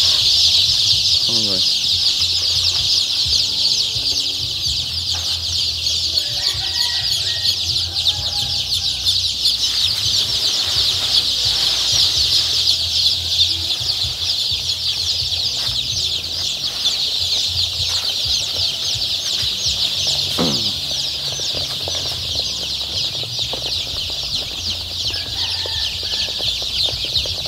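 Three-day-old chicks chirp and cluck in a dense, steady chorus that fills the whole stretch, brought outdoors into fresh air, with a person speaking briefly over them.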